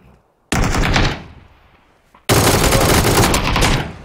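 Two loud, close bursts of rapid automatic gunfire in the PUBG Battlegrounds video game, the first trailing off into a fading echo before the second, longer volley.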